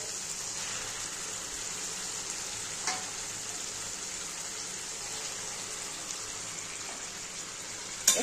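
Mutton pieces drop into fried spice masala and set off a loud, steady bright sizzle that runs throughout. A few soft clinks come from the pan, and a sharp knock sounds at the end. No one speaks.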